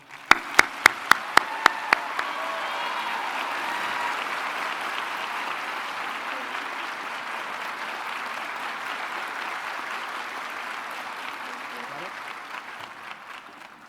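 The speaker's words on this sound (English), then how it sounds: "Please join me in a round of applause for Dr. Shivani Patel." At a Doctor of Pharmacy hooding ceremony, a handful of sharp nearby claps open a broad, steady wave of audience applause that carries on evenly and then slowly eases off, with a voice faintly audible toward the end.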